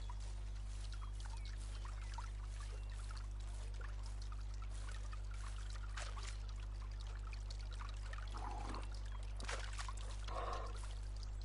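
Drinking water from a river in the video game Medieval Dynasty gives a faint, continuous trickling pour with a few brief splashy swells near the end, over a strong low steady hum.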